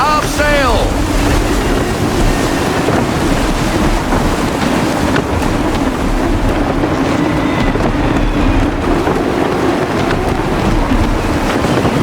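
Sailing ship at sea in gusty wind in Assassin's Creed 3, a loud steady roar of wind and surging waves with creaking hull sounds, continuous throughout.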